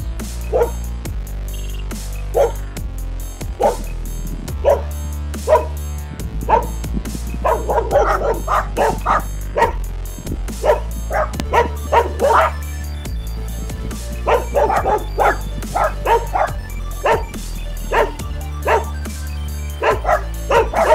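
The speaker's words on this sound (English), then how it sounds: "see what gets the dog to stop barking without harming the dog" A dog barks repeatedly in bursts of yips and bow-wow barks, loud and close, with a few whimpers between volleys while an anti-bark ultrasonic repeller is tested on it.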